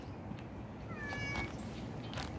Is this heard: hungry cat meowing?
yes